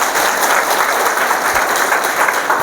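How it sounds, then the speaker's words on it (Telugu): Dense, steady applause from a large crowd at an outdoor scholarship award gathering, loud and continuous throughout with no voices rising above it. "గట్టిగా చప్పట్లు కొట్టండి"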